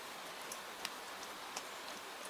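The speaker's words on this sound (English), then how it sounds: "Or maybe the rain is tapping softly against the glass." Soft rain taps against window glass at night, a few scattered light ticks over a steady, gentle hiss.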